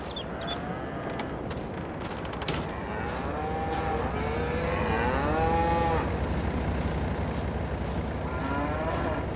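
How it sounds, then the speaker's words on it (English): Cattle in Farming Simulator 22 moo repeatedly and loudly, several long drawn-out calls overlapping over a steady low engine-like hum, with no talking. "There's a lot of cows in here."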